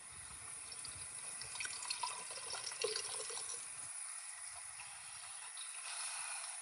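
Water runs steadily into a container at a live unboxing, a continuous hissing splash at moderate level that thins and quiets partway through, with no talking.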